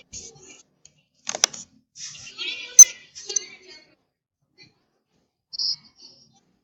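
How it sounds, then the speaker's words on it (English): Bursts of typing on a computer keyboard, a few separate clusters of quick clicks with quiet gaps between them, close and fairly soft, with no talk over them. "That's me typing."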